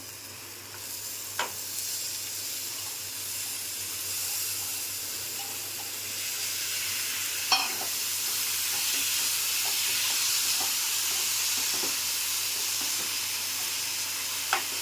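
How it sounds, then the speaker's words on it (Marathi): Steady, hissing sizzle of sprouted moth beans frying in a hot pan with turmeric, with a few faint clinks of stirring along the way. "आता मी मटकी पण टाकून घेते"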